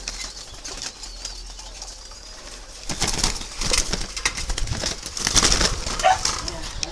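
Young doves in a breeding setup give bursts of wing flapping and soft fluttering movement from about three seconds on, with faint cooing and bird calls mixed into steady background noise.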